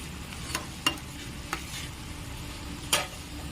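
Mustard hilsa fish frying in a pan that is gently shaken by hand instead of stirred with a spatula: a soft, steady sizzle broken by a few sharp clicks and knocks of the pan.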